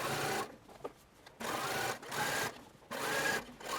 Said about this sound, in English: I'm stitching the outer edge of the facing to the bodice